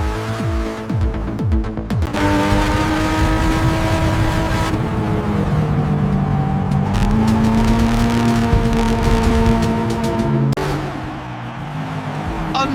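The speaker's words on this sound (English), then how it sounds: "Unbelievable start by the Porsche. He's cleared the field before the first turn." Porsche 917 race car accelerating hard off the start line, a loud sustained engine roar with rising pitch sweeps and gear changes, close and continuous for the whole stretch with no talking.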